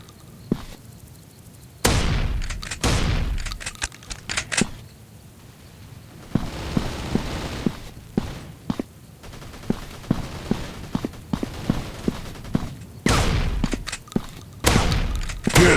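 Shotgun blasts in a first-person shooter game, heavy booming shots fired in rapid clusters with short pauses between, loud and close, with announcer callouts between volleys.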